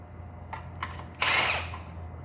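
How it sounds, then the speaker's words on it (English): An impact gun with a 10 mm socket and extension removes bolts while a 2ZZ-GE Toyota MR2 Spyder is set up for a turbo install, giving a single loud burst of rattling hammering after a couple of faint clicks. "So I used the impact gun with a 10 millimeter and an extension to remove the bolts."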